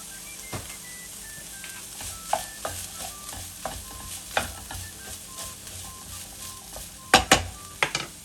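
Mushrooms frying in a pan for Beijing-style noodles, a soft continuous sizzle broken by repeated scraping stir strokes and a few sharp clinks of a utensil against the pan near the end.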